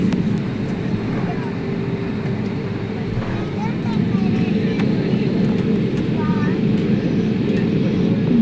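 An airplane slowing down on the runway after landing makes a steady low roar of engines and rolling noise that holds throughout, loud and close, with faint voices murmuring underneath.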